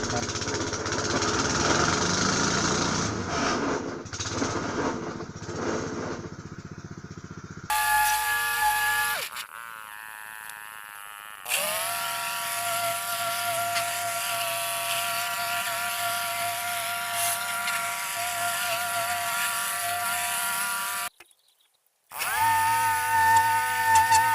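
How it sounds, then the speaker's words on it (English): A small engine cold-starts on choke in a workshop with loud, steady mechanical running and a hiss, broken by abrupt cuts and restarts. "let's have a boring cold start of a boring engine"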